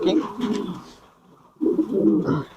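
King pigeons cooing in low, throaty bursts, two close phrases separated by a short pause, with some voices mixed in.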